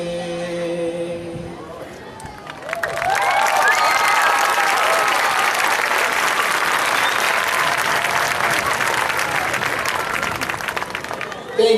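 An audience breaks into sustained applause after a school choir's performance, clapping swelling quickly and holding steady for several seconds, with a voice speaking at the start and a little chatter beneath.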